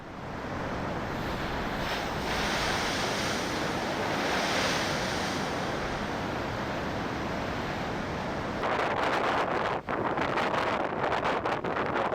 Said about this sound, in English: Here the waters were pouring into the inlet, turning everything it touched white with froth.